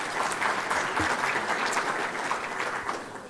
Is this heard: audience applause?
yes